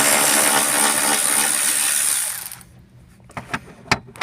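A power tool undoing the 13mm seat bolts in a Volvo 740 whirs loudly and steadily for about two seconds, then stops, followed by a few sharp metallic clicks and knocks.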